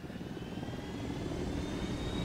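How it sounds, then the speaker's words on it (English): Helicopter in the video game Ghost Recon Wildlands, a steady loud rotor and engine drone that holds at an even level throughout with no talking. "Everybody in the chopper"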